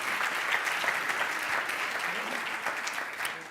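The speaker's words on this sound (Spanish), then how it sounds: "un aplauso para ustedes" Dense applause from a seated conference audience at a presentation, steady and full for a few seconds before easing slightly at the end.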